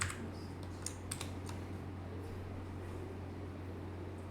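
Typing on a computer keyboard: a few quick, faint keystroke clicks near the start, then a steady low electrical hum carries on alone.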